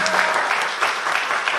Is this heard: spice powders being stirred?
no